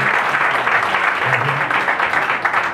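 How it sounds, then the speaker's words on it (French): Steady applause from a crowd for children at a school singing contest final, loud and continuous throughout, with a faint murmur of voices underneath. "Un grand applaudissement pour nos chers enfants."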